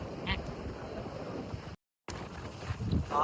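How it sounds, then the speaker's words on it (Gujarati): Strong wind buffeting the open deck of a RoRo ferry, a continuous rushing roar with a brief dropout partway through and faint voices in the background. "પવન સુસવાટા મારે છે"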